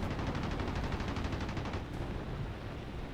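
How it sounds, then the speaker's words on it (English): Aircraft gunfire in the War Thunder air-combat game comes as a rapid, continuous rattle of machine-gun bursts that fades after a couple of seconds, close and loud with no voices. "Stop shooting at me!"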